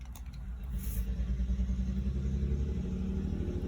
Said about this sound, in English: Can you hear those cars?